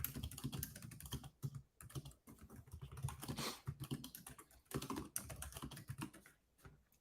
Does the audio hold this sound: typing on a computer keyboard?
yes